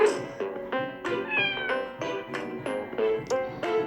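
A cat in a video game meows over and over in quick succession, a run of high, whiny calls with a slightly electronic, synthetic tone.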